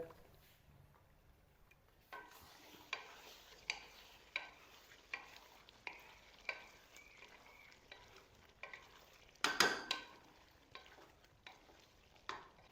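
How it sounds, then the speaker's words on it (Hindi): Chicken fry masala with dry coriander, garam masala and green chillies cooks in a pan over a low flame. A quiet sizzle continues beneath evenly spaced spoon strokes and one louder clatter. "लो फ्लेम के ऊपर पका रहे हैं इसको हम"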